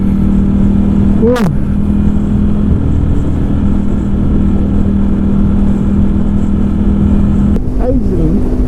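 Aprilia RSV4 RF or Ducati Streetfighter V4 S sport motorcycle ridden on the road, its V4 engine droning loud and close with steady throttle and brief revs near the start and end, plus a rider's short exclamation.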